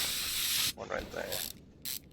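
A ratchet clicks in short rapid bursts as engine head bolts are loosened in the Car Mechanic Simulator 2021 video game, with brief pauses between bursts.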